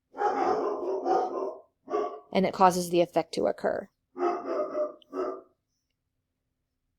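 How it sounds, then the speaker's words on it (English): A dog barks in a short, sharp run of barks in the middle of a lecture, close and clear between stretches of a person speaking. "I hope you can't hear my dog barking"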